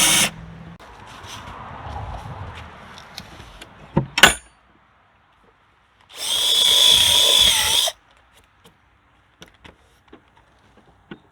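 A power drill drives screws into a bracket on a modern fence, with a long whirring run near the start, a loud burst near the middle, and scattered small clicks and knocks between and after.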